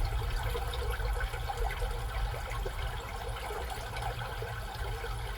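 A steady, continuous rush of flowing river water plays as an ambient relaxation sound inside an XPeng G6 car, unbroken and fairly even in level throughout.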